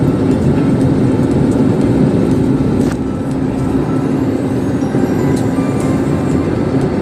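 Steady, loud broadband roar of an airliner cabin in flight on a night journey from Mumbai to Delhi, with a constant low engine drone and no speech.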